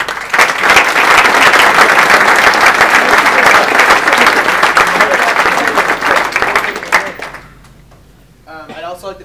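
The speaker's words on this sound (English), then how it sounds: "And I'd just like a round of applause for all of them." Steady, loud round of applause from a hall audience at a senior hockey speech event, dense clapping for about seven seconds before fading out, followed by a voice speaking briefly.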